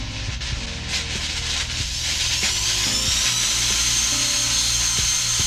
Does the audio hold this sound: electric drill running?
yes